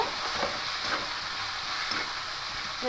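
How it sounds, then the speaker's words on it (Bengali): Boiled mung dal stir-fries in a hot pan for a vegetarian dal, a continuous close hiss of sizzling with faint scrapes of stirring throughout. "এবার সেদ্ধ ডালটা দিয়ে খুব ভালো করে একটু কষিয়ে নেব"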